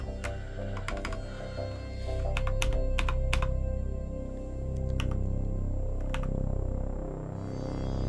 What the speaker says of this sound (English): Can I type a number?